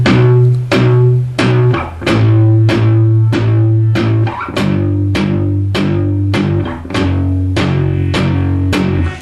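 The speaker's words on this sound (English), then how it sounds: "apply that palm muting technique now to the little power chord" Palm-muted electric guitar power chords chug in steady groups of four, shifting pitch between chord changes, tight and punchy up close.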